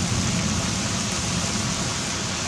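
Heavy rain from a severe August thunderstorm pours in a loud, constant close-up roar of dense drops hitting surfaces, steady throughout with no voices or distinct thunder.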